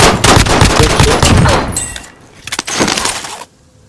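Gunfire in Call of Duty Warzone comes as a dense stream of rapid automatic shots mixed with breaking glass, dropping off briefly before a second loud burst of rounds cuts to near silence.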